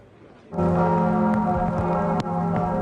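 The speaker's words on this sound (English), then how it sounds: "Bells toll across Paris" A deep, resonant church bell in Paris begins tolling suddenly and rings on steadily with a long sustained hum, struck again near the end.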